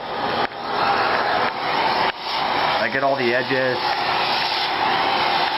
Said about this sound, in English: I just vacuum around the edges in a low suction here